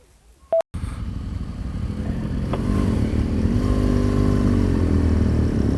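A motorcycle on a world tour through Ecuador pulls away and rides off, its engine building to a steady, loud drone with road and wind noise; a brief click sounds just before.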